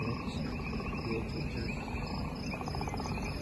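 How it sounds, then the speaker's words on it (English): Frogs croaking outdoors in a dense, continuous chorus with high, insect-like trilling and a pulsed rhythmic layer coming and going, steady and moderately faint throughout. "Can you hear frogs?"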